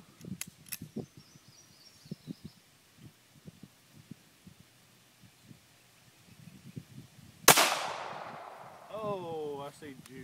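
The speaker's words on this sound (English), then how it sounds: "Firing 380 ball." A .380 ball ammunition round fires at a homemade Kevlar ballistic mask, a single sharp, loud outdoor crack with a ringing decay after a stretch of quiet tapping and faint talk.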